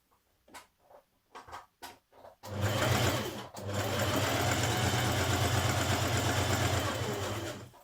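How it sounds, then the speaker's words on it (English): A domestic sewing machine stitching a second gathering line on a New Look 6543 summer top, a few soft clicks and short bursts, then a steady close whirring run of stitching. "just a few millimetres away, I'm going to do another line, just like if you were doing gathering stitching"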